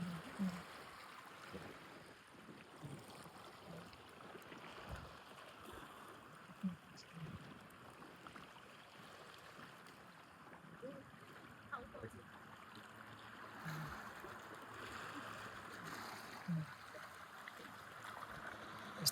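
Sea water washes continuously at a beach in South Korea, a soft, distant surging roar that stays steady throughout, with faint voices now and then.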